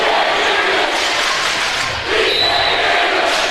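A loud crowd roars and cheers in a gym during a high school volleyball section championship match, a dense, sustained wall of voices from a standing home crowd that dips briefly before surging again.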